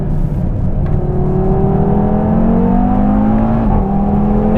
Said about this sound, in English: I'm just amazed at how early you can get on the throttle out of the corner.